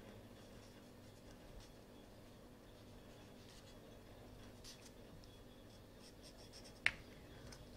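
A pencil traces lines around a paper template for knitted baby booties, giving a faint, steady scratching across a quiet room with one soft tap near the end.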